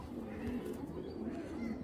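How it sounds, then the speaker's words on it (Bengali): A released pair of pigeons, a male and a female, coo softly in repeated low phrases, fairly faint and close, with no clear talk. "দুইটা কবুতর ছেড়ে দেখাই"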